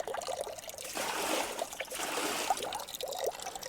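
Water spills out of an overfilled bucket in a steady, faint trickling splash close by, swelling and easing over a few seconds with no speech.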